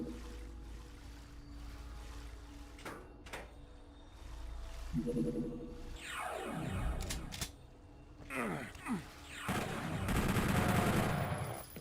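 Relentless enemy gunfire in Doom 64 on PlayStation, at Doomslayer difficulty: sustained rapid bursts and shots over a low rumble, with swelling whooshing blasts and loud, dense volleys building toward the end.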